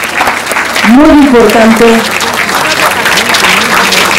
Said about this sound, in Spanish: Que se escuchen esas palmas.